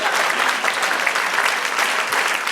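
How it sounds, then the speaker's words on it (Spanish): A Spanish-speaking church congregation gives a dense, energetic round of applause during a sermon, a loud, continuous clatter of many hands clapping close by, with no speech over it. "Den un aplauso al Señor."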